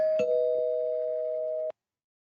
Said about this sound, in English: I'll ring the spoiler bell just because